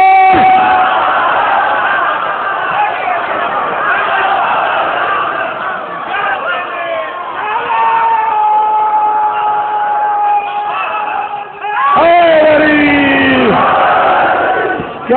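Large crowd at a Shia majlis for mourners of Hussain roaring religious slogans in unison, a loud sustained mass of voices with rising chant calls that swell again sharply near the end.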